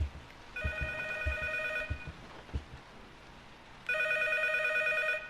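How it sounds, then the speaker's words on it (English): Telephone ringing in the horror game P.T., an electronic ring in two bursts separated by a pause, with faint thumps and footstep-like knocks in between, moderately loud in a quiet hallway. "There is a third one, and there is the telephone ringing."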